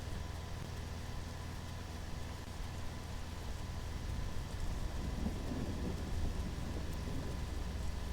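Steady rain with rolling thunder during a storm in the video game The Isle, a continuous low rumble and hiss throughout with no talking.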